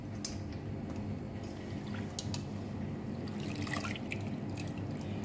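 Washing water is poured off potatoes in a kitchen, giving a low, rushing sloshing flow with scattered drips and splashes, close and fairly quiet, with no speech.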